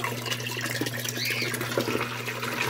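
Water trickling and splashing from a homemade water pump's outlet, a steady continuous flow with a constant electric hum underneath, close and moderately loud throughout.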